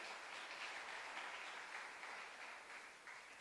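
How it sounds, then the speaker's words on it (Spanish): A church congregation applauds during a worship service, continuous clapping heard faint and distant, holding steady for a few seconds. "¿Cuántos pueden dar un fuerte aplauso al Señor?"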